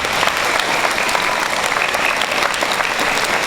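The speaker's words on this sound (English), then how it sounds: "Let's give them a big round of applause to all our support staff." An audience at a school Red Ribbon Rally claps for the support staff, a loud, dense and continuous round of applause filling the whole stretch without a break.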